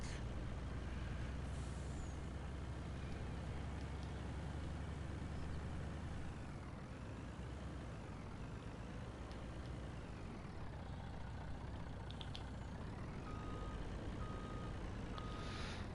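A livestock feed truck on a Farming Simulator 19 farm rumbles steadily while reversing beeps repeat and an air brake hisses, fairly faint and continuous with no talk.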